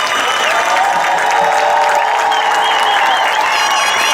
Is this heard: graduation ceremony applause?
yes